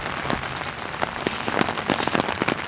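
Rain patters densely on an umbrella and splashes into standing water, a steady broadband hiss with scattered sharper drop hits throughout.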